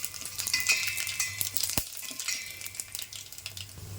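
A tempering of spices with asafoetida sizzles and fries steadily in a pan for a coconut dhal curry, with bright continuous crackle and occasional stirring scrapes close by and no talk.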